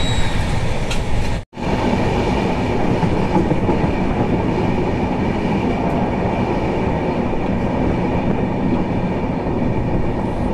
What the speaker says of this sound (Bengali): আমাদের ট্রেন এগিয়ে চলেছে দুরন্ত গতিতে